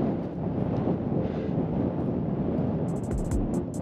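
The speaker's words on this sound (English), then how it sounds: "It's a little windy up here," Wind gusts across a high mountain pass in Roosevelt National Forest, a steady close roar buffeting the microphone throughout, with a few faint high chirps near the end.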